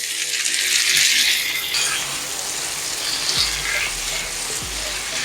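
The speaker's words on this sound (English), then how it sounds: "I'm going to add tomato." Tomato hits a hot pan for butter chicken, setting off a loud broadband sizzle that holds steady throughout, with a couple of brief low knocks near the end and no talk.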